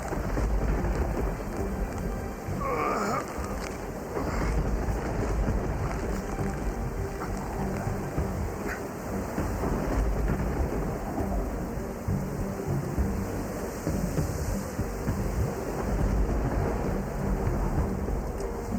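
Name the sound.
rain and thunder of a storm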